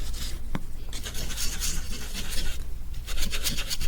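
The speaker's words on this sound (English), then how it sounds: "I'm kind of hard on my brushes, but that's okay. I don't have real expensive ones, so I don't feel bad about scrubbing around and" A paintbrush scrubbing acrylic paint on canvas gives a steady close rasping rub with repeated back-and-forth strokes and no talking.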